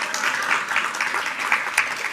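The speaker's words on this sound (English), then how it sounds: "A round of applause." Applause from a conference audience at a research area conference opening, steady dense clapping filling the whole short stretch at moderate loudness with no voices over it.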